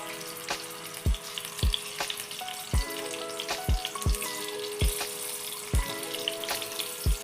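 Stuffed kantola (spiny gourd) frying in oil in a wok gives a steady, close sizzle, with sharp knocks at roughly regular intervals throughout.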